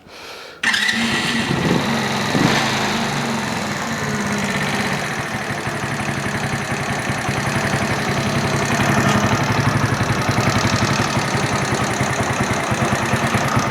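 A small, old red motorbike engine starts up abruptly and keeps running with a rapid, knocking idle that runs slow, loud and close throughout.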